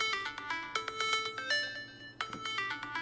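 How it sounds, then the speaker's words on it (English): A smartphone chimes after the button is pressed on a tiny tracker gadget. Bright tonal dings repeat in quick bursts with a short pause partway through, loud and close, with no voices. "Your phone dings."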